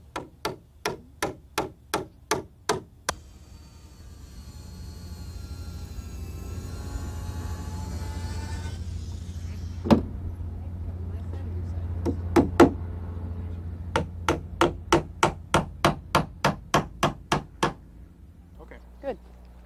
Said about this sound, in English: Finally, we put on the cap rail, nailing into the ends of the verticals and mitering the corners.